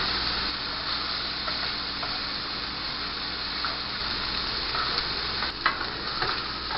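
Italian sausage browns in a pan over medium heat, a continuous close sizzle of frying meat with occasional stirring scrapes and small clicks.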